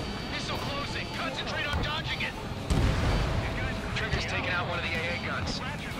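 In a flight combat video game, a destroyed target explodes with a sudden low booming burst midway, over a steady jet engine rumble and ongoing game sounds, with someone talking throughout.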